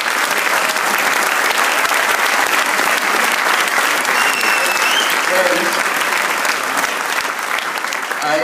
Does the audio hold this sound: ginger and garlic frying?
no